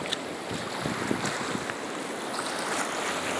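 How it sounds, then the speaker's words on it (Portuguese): Floodwaters rush through Sobral, Ceará, in a dense, continuous roar of churning water with wind buffeting the microphone, loud and unbroken with no voices. "Aí é o banzeiro das águas"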